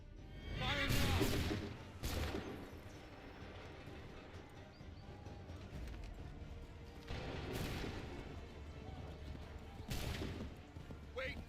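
Cannon fire in Assassin's Creed III, a handful of heavy booming blasts spaced a few seconds apart, each rolling off into rumble, with voices around them.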